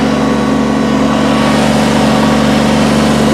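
A 2019 Kubota BX23S compact tractor engine runs steadily at a close, loud, even idle, its hum constant throughout with no talking.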